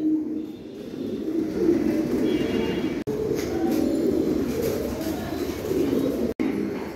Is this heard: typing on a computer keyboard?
no